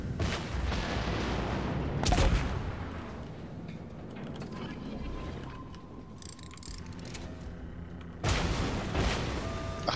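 Warship guns fire in World of Warships, heavy booming salvos at the start, around the second mark and again late, over a continuous rumbling sea-and-engine bed while someone talks.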